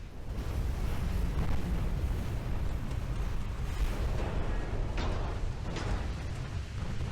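A warship turret explodes in a naval battle in the Ultimate Admiral Dreadnoughts game, a loud, rumbling blast that roars continuously for several seconds with a few sharper cracks near the end.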